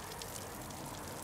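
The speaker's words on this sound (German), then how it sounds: "Hänsel und Gretel stehen auch im Regen" Rain falling steadily outdoors on a hiking trail, a dense, even patter heard close and filling the whole moment with no talking.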